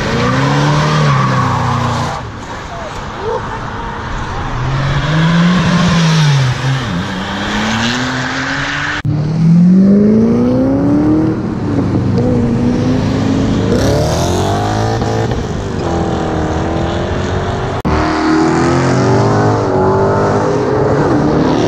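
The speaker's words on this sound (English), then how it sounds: "The 7th time he's revved it. It sounds nice though." Loud McLaren F1 sports car engine revving repeatedly, pitch sweeping up and down in several bursts, with tire squeal and no talk.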